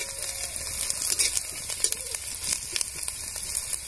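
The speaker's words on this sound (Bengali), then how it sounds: "ভালো করে ভেজে নেব একটু লাল করে।" Chopped garlic and spice paste frying in a pan for dal palak with spinach and lentils, a steady close sizzle with occasional soft crackles and scrapes, no voices.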